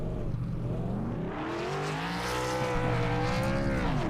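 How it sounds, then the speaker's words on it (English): Race cars in iRacing doing a burnout after a CTC Cup Series race at Talladega Superspeedway, loud continuous engine roar with rising revs and a sustained tire squeal, close and unbroken throughout. "They'll do those burnouts."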